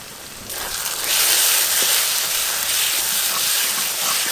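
Ginger paste, turmeric and spices hit frying garlic and onion in a pan for mutton curry, and a loud, steady hissing sizzle swells up and stays close, with no voices.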